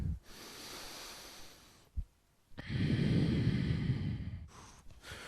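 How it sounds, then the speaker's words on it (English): Controlled nasal breathing during a core-focused yoga routine: a long, airy exhale, a short sniff, a pause, then a longer, louder breath through the nose, all close and without talk. "Keep your breathing controlled. Nasal breathing, super important here."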